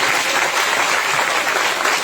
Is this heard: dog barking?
no